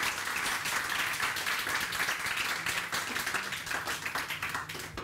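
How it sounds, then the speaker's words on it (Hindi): A studio audience on a morning TV show bursts into sustained applause, a dense patter of many hands clapping at moderate distance that holds steady and tapers slightly toward the end. "ताली तो बजाओ यार।"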